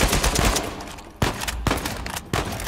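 Enemy gunfire in Uncharted 4 crackles in fast volleys with a few sharp, heavier shots standing out, loud and close with no voices.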